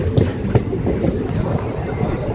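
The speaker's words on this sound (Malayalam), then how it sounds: "ബിരുദനഗർ ജംഗ്ഷൻ റെയിൽവേ സ്റ്റേഷനാണിത്" A train rumbles close by at Virudhunagar Junction railway station, with rhythmic clacking of wheels over rail joints under a low, steady roar.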